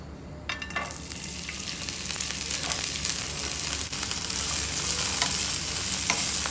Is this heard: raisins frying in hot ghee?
yes